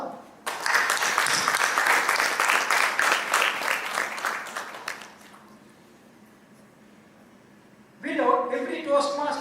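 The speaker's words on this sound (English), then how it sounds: "Ladies and gentlemen, you may applaud now." Audience applause at a Toastmasters club officer installation, a burst of dense clapping for about five seconds that fades to quiet room tone before a voice starts speaking.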